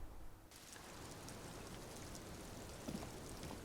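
Steady rain in the game Disco Elysium, falling continuously as a dense, even hiss of drops on surfaces with no voices over it.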